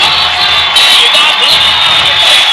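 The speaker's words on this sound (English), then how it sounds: "Crowd getting loud." A loud crowd roars and cheers steadily at a football game as the Dragons face third down, with a commentator talking over the noise.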